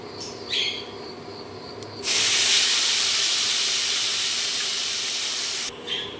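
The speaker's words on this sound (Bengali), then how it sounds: "সুজিগুলো ভাজা হয়ে গেছে, দিয়ে দেব জল" Water poured onto fried semolina and vegetables in a hot pan bursts into a loud, steady hiss that lasts several seconds, then cuts off, after quieter kitchen sounds.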